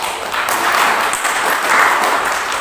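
Church congregation applauding at the close of a sermon, a continuous wash of many hands clapping at steady, fairly loud level throughout.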